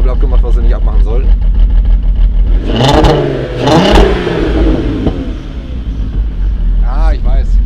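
A VW Golf GTI R32 engine missing part of its intake idles unevenly, then revs up sharply twice and settles back, loud and close, while people talk over it.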